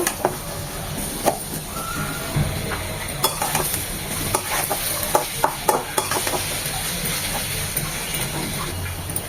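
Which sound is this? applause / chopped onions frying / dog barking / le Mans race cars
chopped onions frying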